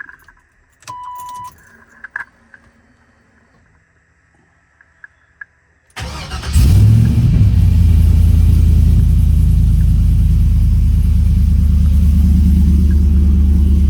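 Keys jingle briefly, then a Chevy truck engine with a 3-inch Magnaflow exhaust cranks and settles into a loud, deep, rumbling idle that continues steadily close by.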